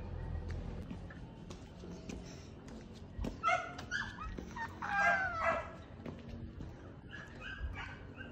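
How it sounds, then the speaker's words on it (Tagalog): A dog yips and whimpers in short bursts, with a couple of sharper barks, close by against a low rumbling background. "Ang aso naman na to."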